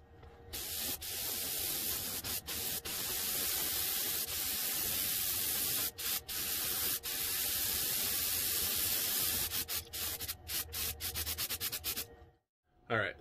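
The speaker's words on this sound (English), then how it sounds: "All right, so we got everything sprayed white." A fishing lure is spray painted white during a custom lure build: a long, steady aerosol hiss runs almost continuously, broken by several brief pauses between bursts, close and fairly loud, then cuts off near the end.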